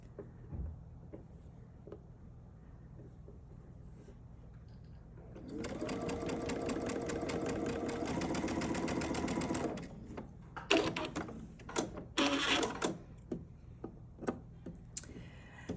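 A sewing machine stitching a small quilt block corner to corner, preceded by quiet handling and ticks, then a steady close run of rapid stitching for several seconds followed by short bursts and clicks.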